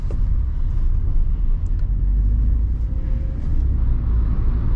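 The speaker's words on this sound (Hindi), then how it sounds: "थोड़ी बहुत हवा की आवाज है" Steady low rumble of wind and road noise heard from inside a moving Hyundai i20, constant and moderately loud with no talking.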